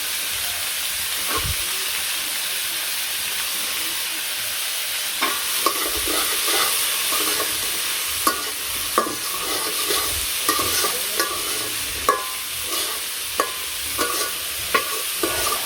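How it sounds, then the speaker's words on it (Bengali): Bottle gourd and potato stir-fried with salt, turmeric and chili in a village kitchen, giving a steady sizzle with scattered scraping clinks of a spatula stirring the pan. "লাউ গুলো দিয়ে দিলাম, এখন এর সাথে ভাজি নেই।"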